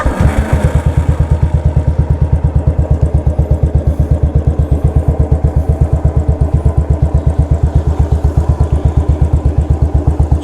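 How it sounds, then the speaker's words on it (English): A custom motorcycle idles in neutral, its exhaust putting out a loud, close, rapid and even low thumping pulse that holds steady with no revving. "I can make you hear how the exhaust sounds."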